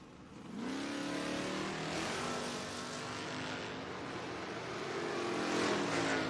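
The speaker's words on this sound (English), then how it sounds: "Matera in the Nova." A Chevrolet Nova footbrake drag racing car launching at a drag strip, its engine revving up hard into a sustained loud roar that holds and swells again near the end, with no talk.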